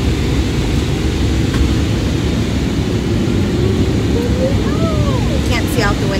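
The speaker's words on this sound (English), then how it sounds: "and the plane gets really loud" A loud, steady roar of airplane engines and rushing air fills the cabin during landing, continuous and broadband, with a faint voice and a brief high squeal near the end.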